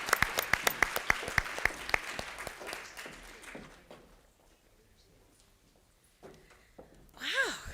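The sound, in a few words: audience applause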